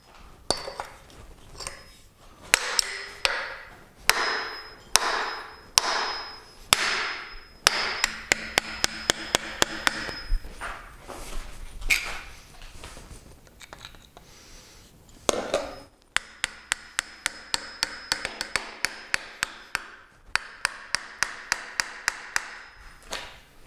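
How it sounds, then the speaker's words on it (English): Metal hammer blows and prying on the manifolds of a 1931 Plymouth engine during teardown, loud ringing strikes in irregular bursts and then fast repeated hits, close up with no talking. "with some hitting and some prying, let's try to get these manifolds off"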